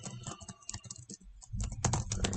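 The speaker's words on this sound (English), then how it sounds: "I'm typing a Facebook message here real quick" Rapid, irregular clicks from a computer keyboard as someone types a quick message, close by and fairly quiet, with a brief pause midway before a denser burst of keystrokes.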